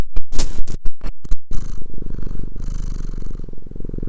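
A cat purrs loudly and close, with rapid rhythmic pulses, sharp scratchy bursts at first, then a smooth continuous purr.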